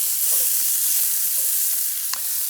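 Pickled chili peppers hit a hot pan, producing a loud, continuous hiss of sizzling with faint stirring scrapes and one brief clink of a spoon.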